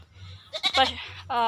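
A goat bleats at close range, a couple of wavering, nasal cries in quick succession with a low background hum between them.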